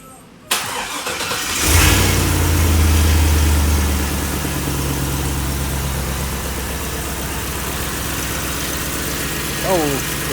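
A car engine cranks and fires up after a brief silence, surging loudly before settling into a steady, rumbling idle up close, with an exhaust recently worked on.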